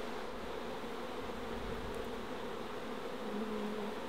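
Wild bees swarm and buzz in a dense, steady drone during a hive rescue from a kindergarten, close and continuous throughout.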